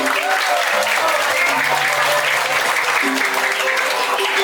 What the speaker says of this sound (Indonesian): Ya, tepuk tangan buat villa PC di Bali.